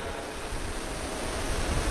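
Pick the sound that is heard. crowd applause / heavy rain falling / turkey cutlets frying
heavy rain falling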